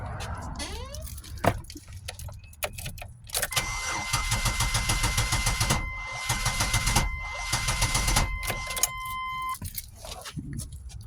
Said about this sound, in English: And just then, cranking, but just won't start.